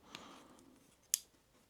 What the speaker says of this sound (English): on the other side, we have these massive spring-loaded scissors, which feel pretty good